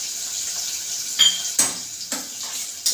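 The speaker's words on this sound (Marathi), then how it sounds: "हा एक उभा कापलेला कांदा आहे, तो आपल्याला टाकायचा आहे त्याच्यामध्ये" Sliced onion goes into a hot pan of soybean rice: a few sharp clinks and scrapes of a utensil against the metal pot at irregular intervals over a steady sizzling hiss, close and clear.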